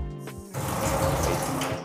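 Strong tap water gushes in a guest room bathroom in a Dumagat community atop the Sierra Madre, a steady broad rush starting after a brief knock and continuing loudly to the end.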